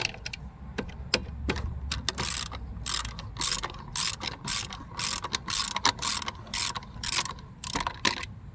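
A ratchet clicks rapidly while removing a brake caliper bolt during a front brake pad and rotor change, close-up bursts of ratcheting separated by short pauses, with no voices.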